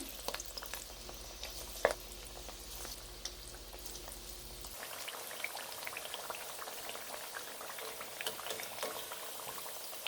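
Vada deep-frying in hot oil until golden and crisp, a steady dense crackle and bubbling sizzle heard up close for the whole stretch, with a low hum underneath in the first half.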